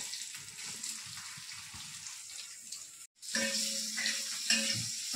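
Chopped onion drops into hot mustard oil in a pan for a potato and okra curry: quiet at first, then after a brief break a louder, steady sizzle with some clinking, close up and with no voices.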